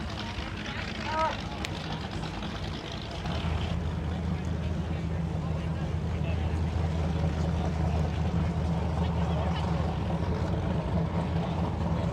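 Racing powerboats of 1,200 to 3,000 horsepower at open throttle during a desert lake parade of power, a loud continuous engine roar that swells after a few seconds and holds steady, with a voice talking over it.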